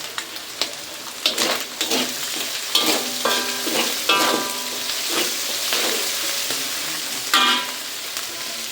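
Ground shrimp and dried kachki fish are stir-fried with onion stalks, giving close, lively sizzling broken up by repeated scrapes and clinks of a spatula against the pan, with no talking.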